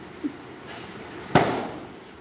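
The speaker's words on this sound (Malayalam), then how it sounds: "ഇത് പള്ളിയിലെ പാസ പോകുന്നതിൻ്റെ പടക്കമാണ്" A firecracker set off for a church procession gives one sharp, loud burst that decays quickly, preceded by a faint small pop over a low outdoor background.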